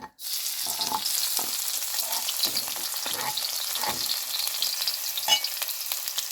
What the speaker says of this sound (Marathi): तेल तापलेलं आहे आता आपण फोडणीत टाकूया